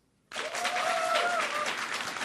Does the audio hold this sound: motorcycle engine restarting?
no